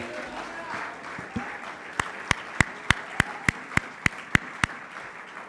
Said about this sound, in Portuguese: Vamos aplaudir o Senhor pela vida da pastora Eusita